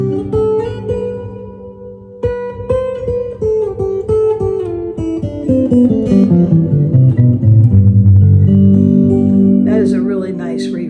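Acoustic guitar chords and single notes are played through the room reverb setting of an Electro-Harmonix Oceans 12 pedal, loud and close, with a wash of ambience lingering behind each strum.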